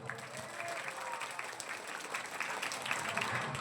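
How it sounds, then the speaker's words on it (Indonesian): A village crowd at a Sundanese religious sermon applauds for the youth, continuous clapping with some crowd murmur, moderately distant and swelling slightly toward the end. "Kasih tepuk tangan untuk para pemuda."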